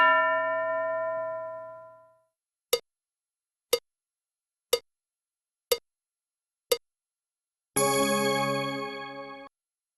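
A classroom lesson bell strikes five short, bright dings at an even pace, each clean and separate. Sustained tonal sounds come before and after the dings.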